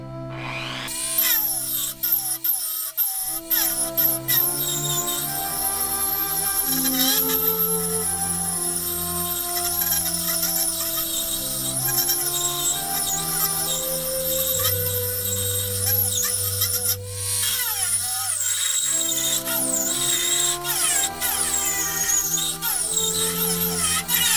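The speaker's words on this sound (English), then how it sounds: "I'm using a rotary file." A rotary file grinds brass while repairing a broken Stanley Bailey #4 plane, a loud continuous high whine from the spinning tool with pitch wavering under load and a brief pause near the start and again later.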